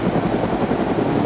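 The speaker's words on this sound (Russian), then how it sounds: "Я реально не удивлюсь, если за мной сейчас придет еще и третий вертолет." Helicopter rotor chop and engine drone in the survival game DayZ, a steady, close, loud thrum throughout the short clip with no talk over it.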